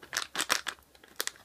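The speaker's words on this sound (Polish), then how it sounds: "Nożyczki przestały ciąć." Scissors cutting and crinkling plastic packaging of a LEGO Ninjago minifigure, a few short crisp snips and rustles close up, quiet with brief pauses between.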